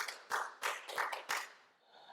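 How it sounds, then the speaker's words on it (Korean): Quiet, scattered clapping from a church congregation during a Sunday worship service: about five distinct claps spaced in an uneven rhythm, then fading into near silence. "박수 영광 드리겠습니다"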